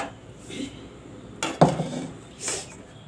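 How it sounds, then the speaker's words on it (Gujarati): A metal kadai of muskmelon vegetable curry is lifted off a gas stove, giving a sharp metallic clank and scrape midway, with lighter clinks of utensils before and after, close and fairly loud. "આ કડાઈ છે એને આપણે નીચે ઉતારી લેવું"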